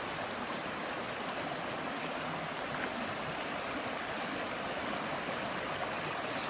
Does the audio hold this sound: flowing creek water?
yes